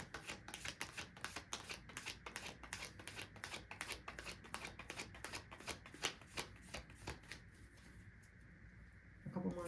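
Tarot cards being shuffled by hand produce a rapid, rhythmic series of crisp riffling snaps for about eight seconds, close and clear, before the shuffling stops and quiet handling follows.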